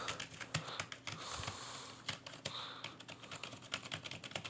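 Quiet, close typing on a computer keyboard while writing in MS Word, a steady run of soft key clicks with uneven rhythm and no talking.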